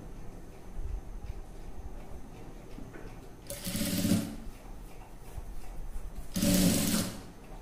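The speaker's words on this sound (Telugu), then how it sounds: "గట్టి కుట్టు వేసుకున్న తర్వాత అప్పుడు ఇదంతా కూడా స్టిచ్చింగ్ చేసుకోవాలి" Sewing machine stitching a dress neckline, running in two short loud bursts of whirring stitches separated by a quieter stretch with low background noise; no talking.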